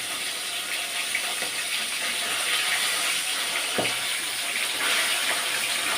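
Boneless rohu fish fries in a pan in a home kitchen, giving a steady, loud broadband sizzle and hiss that continues throughout, with a brief clatter near the middle and no talking.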